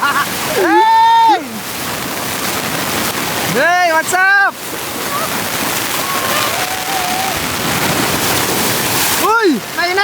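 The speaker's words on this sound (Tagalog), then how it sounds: "Ang lakas ng alon, men. Ang lakas ng hangin." Strong ocean waves and gusty wind at the sea keep up a steady broadband roar throughout, with people calling out and chatting over it.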